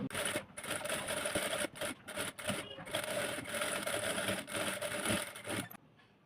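Sewing machine stitching cloth for a neck band, close and fairly quiet, running in rapid mechanical bursts separated by short pauses, with the motor stopping near the end.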